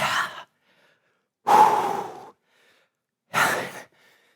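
Three heavy, forceful exhalations during a high-intensity total-body bootcamp workout, each about a second long and separated by quiet pauses, close and loud with no talk.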